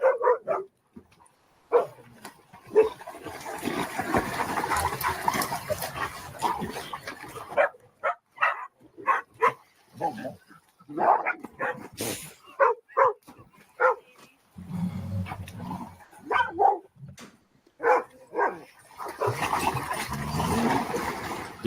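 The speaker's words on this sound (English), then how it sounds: "mine are hearing these guys barking" Dogs bark repeatedly in sharp bursts, with some yips and whimpers mixed in, fairly close, over a background of rustling and movement.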